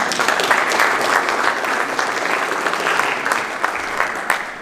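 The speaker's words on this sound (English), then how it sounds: "Please let's give them a big round of applause." A crowd at the opening ceremony of a squash federation seniors championship gives guests of honor a big round of applause, loud and sustained clapping with a few sharper claps near the end.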